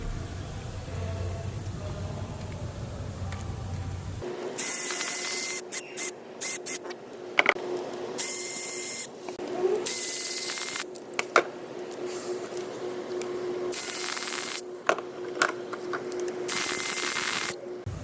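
Removing 13mm transmission pan bolts on a Mercedes W124 400E with a 722.3 automatic transmission: a steady, close mechanical whirring runs in long bursts, broken by short gaps and sharp clicks.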